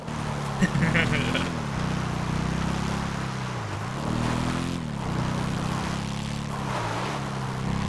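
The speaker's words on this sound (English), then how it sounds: "I just like the sound of the engine bouncing off the walls" In a video game, a car engine drones steadily as it echoes off tunnel walls, rising and dipping in pitch as the throttle changes, loud and continuous throughout, with some background noise.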